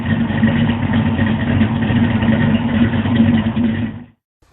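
A Ford 302 5.0-liter V8 fitted with GT40P heads and an E303 cam runs steadily near and loud with a rough, lumpy idle, then cuts off abruptly to silence at the end.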